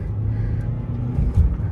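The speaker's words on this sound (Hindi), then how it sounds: "इसका टर्बो जो है और इसका जो डीजल इंजन है वो बहुत ज़्यादा वोकल हो जाता है" A Chevrolet Cruze turbo diesel engine drones low and steady from inside the moving car, rising slightly in a soft surge near the end, with no voices.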